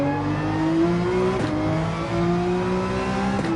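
A Porsche 911 race car in Gran Turismo 7 revs hard under steady acceleration, its loud engine note climbing in pitch with a few brief gear-shift dips, close and continuous with no talk.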